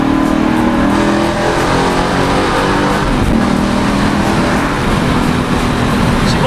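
A car engine revs loud and close, holding a steady, heavy drone with slight rises in pitch throughout.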